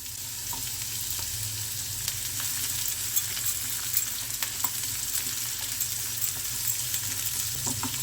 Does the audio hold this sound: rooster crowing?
no